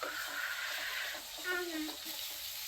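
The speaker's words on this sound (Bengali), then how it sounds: "এখন মশলাটা কষিয়ে আমি মাছটাকে কষিয়ে নেব।" Spice paste sautéing in a pan for a Bangladeshi shing fish curry with potato and bitter gourd, a steady close sizzle running throughout while someone speaks over it.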